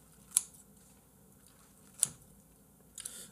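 Kitchen scissors snipping through makguksu buckwheat noodles, three short crisp cuts spaced more than a second apart, close and sharp against a quiet background.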